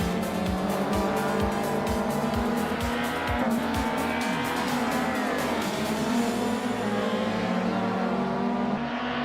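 Race cars, among them a 2006 BMW 320, roar around a track with engines droning at high revs and tires squealing, cars passing close in a rapid rhythmic series before the sound fades toward the end.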